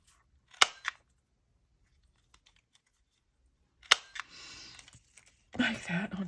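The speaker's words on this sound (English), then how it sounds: "And I'm going to cut it in half with my scissors." Scissors cut paper in half for a junk journal bookmark, with two sharp close snips separated by silence, followed by brief rustling of paper being handled.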